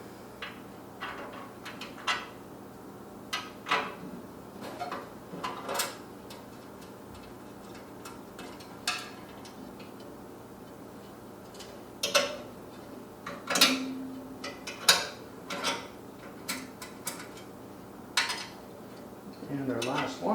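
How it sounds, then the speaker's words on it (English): A wrench works loose the four fire pot bolts inside a GMG Davy Crockett grill, giving sharp metallic clinks and ratcheting ticks in scattered bursts over quiet, with a few spoken words. "So grab my wrench here, loosen them up in each corner"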